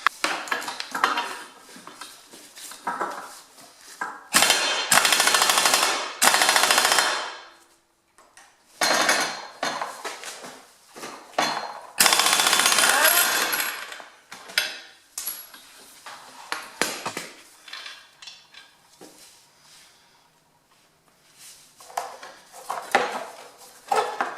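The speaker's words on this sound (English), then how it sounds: "Since I have an impact wrench, I'm just going to use that." An air impact wrench works on the rear wheel of a Yamaha Zuma scooter, firing several loud, close bursts of hammering, two of them lasting a couple of seconds. Metallic clinks and clatter fill the gaps between bursts.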